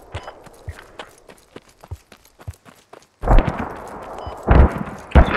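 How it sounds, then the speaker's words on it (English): Mortar fire in the video game Squad: a sequence of sharp, distant thumps and cracks, followed by louder, heavy booming impacts in the second half. "Hold mortars, please. If those are friendly mortars."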